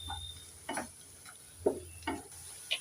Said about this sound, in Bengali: নেড়ে চেড়ে হালকা পেঁয়াজটাকে লাল করে ভেজে নিয়েছি এরপরে দিয়ে দেব থেতো করা আদা আর রসুন একটু নেড়ে চেড়ে দিয়ে দেবো